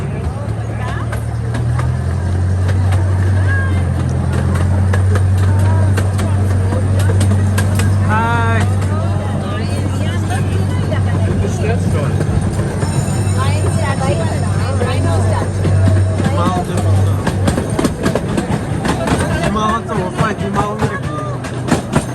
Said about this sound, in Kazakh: Мынандай пойызға мінейін деп